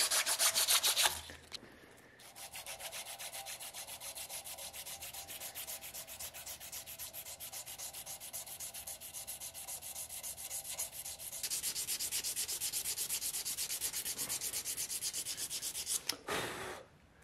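Steady close-up sanding rubs along the edges of a handmade knife, rounding them slightly; continuous scratchy strokes with a brief pause near the start and a louder stretch toward the end, no talking.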